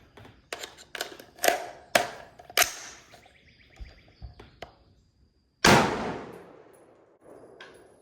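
A Colt SOCOM rifle fires a Lake City 55 grain M193 round: several sharp cracks and metallic clanks of the action cycling at first, then one loud, close shot with a decaying echo.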